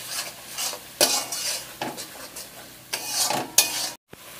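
Turmeric powder stirred into fish curry in a pan, several distinct scraping strokes of a spoon against the pan over a faint sizzle, close and alone.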